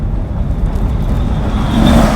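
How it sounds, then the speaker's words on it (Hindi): A car drives along a rural road near the village of Sasol in Khuzdar, Balochistan, with a steady low engine rumble that swells slightly as it nears. Constant outdoor background noise sits under it. "ये गाड़ी भी आ रही है सासोल से"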